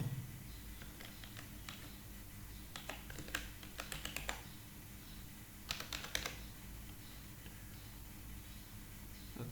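Password keystrokes on a computer keyboard, sparse bursts of crisp close clicks separated by pauses against a quiet room hum, with no voices.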